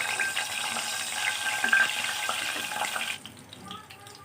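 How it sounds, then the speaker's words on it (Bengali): Two slit green chilies sizzle in hot oil with black cumin seeds in a pan, a steady crackling fry that drops off abruptly near the end, with a voice speaking over it. "এখন দিয়ে দেব 2টো চিড়ে রাখা কাঁচামরিচ।"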